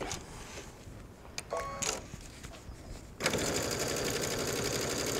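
A sewing machine stitches a welt pocket onto fabric, starting after some quiet handling noises with a short tap, then running in one steady close burst of fast stitching through the end, with no speech.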